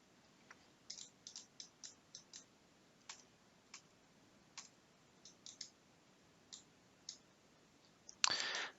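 Sparse, crisp computer mouse clicks sound at irregular intervals close by while working in inLab dental design software, followed by a brief louder rustle at the end.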